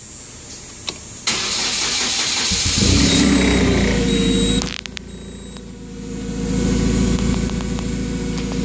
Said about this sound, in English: I'm going to go ahead and start up the machine, just kind of give you sights and sounds